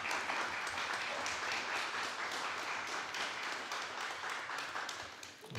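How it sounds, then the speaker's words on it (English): Sustained audience applause at a state instrument championship awards ceremony, a dense, steady wash of many hands clapping at moderate distance, continuing without talk before tapering slightly at the end. "Let's give them all another round of applause."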